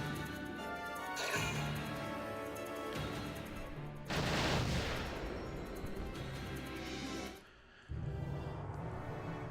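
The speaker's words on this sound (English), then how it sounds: "Okay, so that cannon bunker is going to be trying to take out Rosie." Artillery fire from a cannon bunker in the Valkyria Chronicles game booms out as heavy blasts, with a loud burst midway and another after a brief lull, set against a music-like backdrop.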